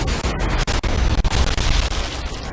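Explosions in Sniper Elite 4, a dense, loud barrage of booming blasts and crackling bursts, near and overlapping in quick succession with brief dips between them.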